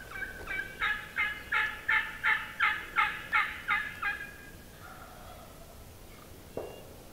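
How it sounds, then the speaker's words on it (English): A wild turkey gobbles in a rapid burst of about ten pulses, then a quieter call and a faint sharp note follow. "I just heard a gobble up the hill."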